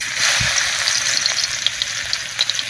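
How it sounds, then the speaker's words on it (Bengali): Two dried chillies and four or five crushed garlic cloves hit hot mustard oil in a kadai and crackle in a bright, close sizzle. Small pops and stirring clinks come through the sizzle at scattered moments. "তেল গরম হয়ে গেছে তেলের মধ্যে দেব দুটো শুকনো লঙ্কা চার পাঁচটা থেতো করা রসুনের কোয়া"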